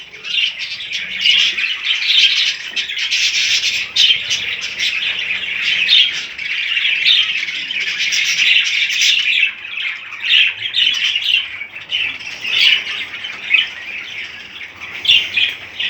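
Budgerigars in a home breeding cage chirp and squawk continuously, a dense bright chatter of many small birds close by, with no voices.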